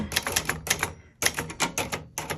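A 1967 Webster XL-500 travel typewriter being typed on up close, quick bursts of sharp key strikes in an uneven rhythm, broken by a brief pause midway.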